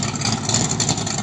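A 1969 Dodge Charger R/T with a 440 V8 runs steadily, a continuous rumbling engine note heard alone at moderate volume.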